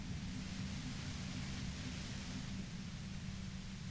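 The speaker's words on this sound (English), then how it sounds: "The violet-white noise becomes even more overwhelming closer to the compressor." Violet-white noise near a compressor in the game Disco Elysium forms a dense, constant hiss and low rumble, unchanging and enveloping, with no other sounds.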